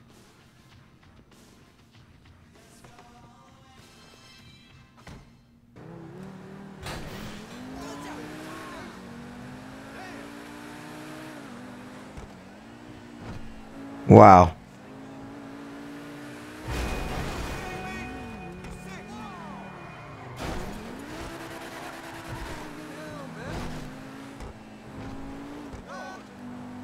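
Expensive sports car in GTA Online revving and accelerating, its big bore exhaust crackling and popping through a sustained engine drone with a sharp loud burst midway, while someone speaks over it.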